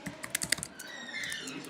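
Quiet clicks of someone typing a password on a computer keyboard, a short burst of keystrokes early on, then faint, steadier sound.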